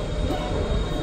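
A Frankfurt U-Bahn subway train runs through an underground tunnel, giving a close, loud, steady rumble with a faint high wheel squeal and no talking.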